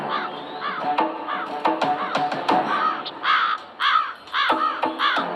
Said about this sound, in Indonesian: kenapa banyak burung gagak di sini?